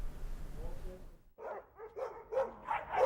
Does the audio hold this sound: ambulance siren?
no